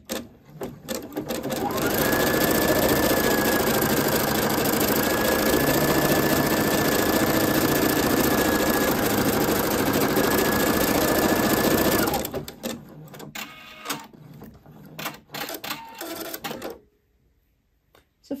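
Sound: embroidery machine stitching a first outline on stabilizer in hoop

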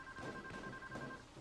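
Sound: telephone ringing in video game Payday 2

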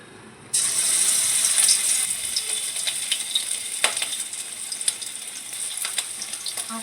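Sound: frying prawns in a pan

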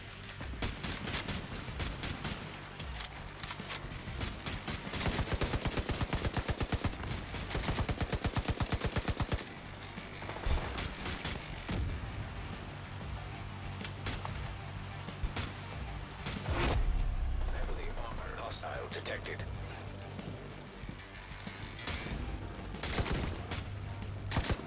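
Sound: gunfire from the video game The Division 2

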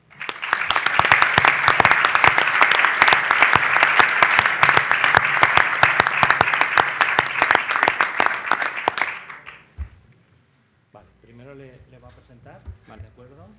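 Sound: applause

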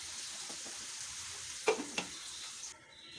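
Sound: soaked rice and lentils stir-frying with vegetables for khichuri

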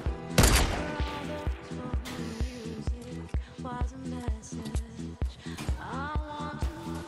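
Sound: gunfire in video game Fortnite

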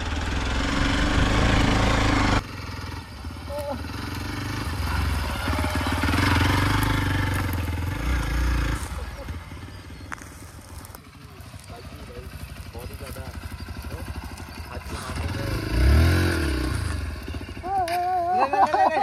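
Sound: XPulse 200 4V Pro motorcycle engine riding off-road

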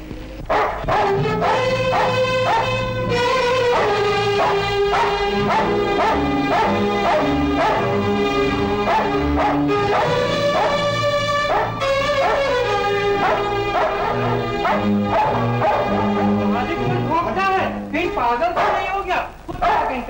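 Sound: dogs barking

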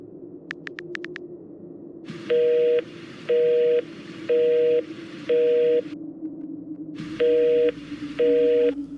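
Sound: phone call failing to connect, dialing and busy tone

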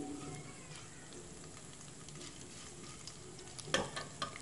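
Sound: mustard seeds, urad dal, jeera and chana dal frying

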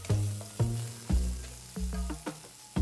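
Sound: chopped tomato frying in oil with cumin, ginger, green chillies

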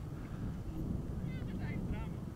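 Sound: easterly wind blowing on the microphone

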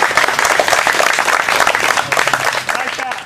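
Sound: crowd applauding Quincho

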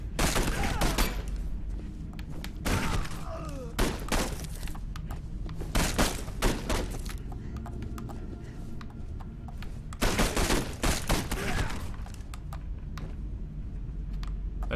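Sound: gunfire from a gun in the video game Condemned 2: Bloodshot

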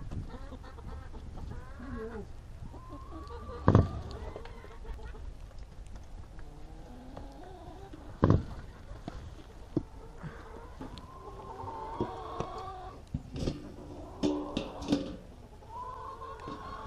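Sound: chickens clucking

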